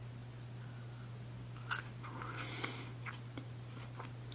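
A soft, crunchy bite into a sweet, sugary, powdery Russian traditional treat with a marshmallow-like texture, heard as a few faint, close crisp crunches and chews over a steady low hum.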